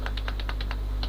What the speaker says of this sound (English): by pressing the four keys that have arrows on them.